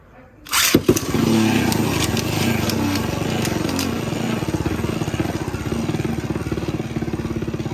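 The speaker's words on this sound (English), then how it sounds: "Now we have Wind Knight in the upper force mode, which will pull air from below the Beyblade." A Beyblade Burst Wind Knight top in upper force mode, launched into a plastic stadium, whirs with a steady buzzing drone after a sharp launch clatter, continuing alone and fairly loud throughout.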